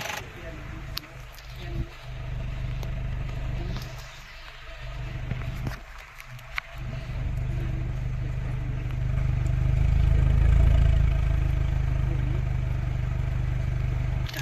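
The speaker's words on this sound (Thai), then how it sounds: "เดี๋ยวไปฟังเสียงท่อกันนะครับ" Honda City running on CNG with a fault causing engine shake and poor acceleration, exhaust idling with a steady low rumble that swells louder toward the end, with some clattering and a voice speaking early on.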